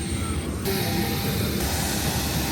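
Airliner engine noise inside a large plane on a trip in Laos, a steady loud broadband roar with a low rumble that shifts slightly in level, no talking.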